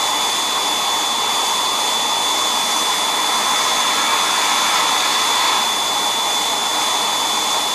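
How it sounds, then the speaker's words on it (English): A sandblaster blasting sand gives a loud, steady, close hiss-roar of rushing air and grit that holds constant for several seconds with no pauses and no speech. "When I throttle it, it seems like it blasts a bunch of sand on it"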